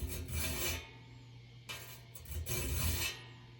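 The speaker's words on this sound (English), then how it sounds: "And I just want to come along and sharpen them." A file rasps steadily across the large teeth of a vintage crosscut saw during sharpening. Close, gritty strokes come in two long passes separated by a short pause, with no talking.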